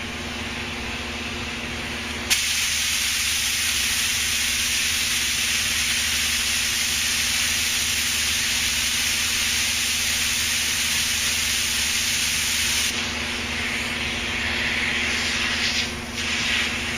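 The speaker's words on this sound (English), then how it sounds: "I'm going to spray my offsets, and that means we're going to spray around the window a little bit" Spray gun painting the offsets around a window opening on a Duramax truck door, a steady close hiss running continuously for most of the stretch with a hum beneath, no talking.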